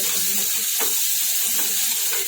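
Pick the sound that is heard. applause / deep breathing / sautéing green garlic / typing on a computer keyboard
sautéing green garlic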